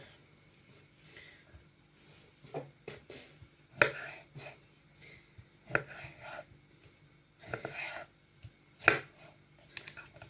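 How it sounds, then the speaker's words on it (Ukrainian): A knife cutting pickled cucumbers into strips on a board, irregular sharp chopping taps in small bursts with quiet pauses between, close and fairly soft, with no talking. "Тепер будемо нарізати соломкою наші сольоні огірки."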